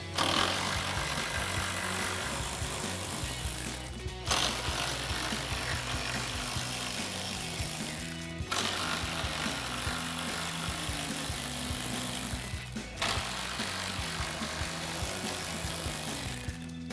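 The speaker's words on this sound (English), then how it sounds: "we're gonna grab our ratchet 10mm socket and take our 4 10mm bolts out of the top." A hand ratchet with a 10mm socket works the top grille bolts loose on a 2015-2017 Ford F-150, a continuous close clicking with short pauses every few seconds between bolts, no talk.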